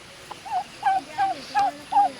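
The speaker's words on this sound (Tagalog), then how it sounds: "Lovebirds." Pair of lovebirds kept outdoors at a house in the Philippines, giving five short, evenly spaced chirping calls that rise and fall, fairly close and clear with no talking.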